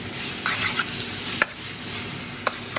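Pork pieces sear in a pan with garlic, onion, ginger and black pepper, giving a steady low sizzle broken by a few sharp stirring clinks of a utensil, close and continuous with no talk.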